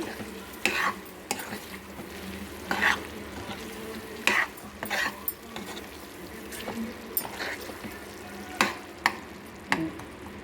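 A prawn fry seasoned with garam masala is stirred in a pan, with repeated close scraping strokes of a spoon over a continuous sizzle and no talk.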